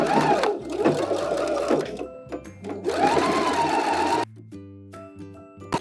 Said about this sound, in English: sew up the side seam and the shoulder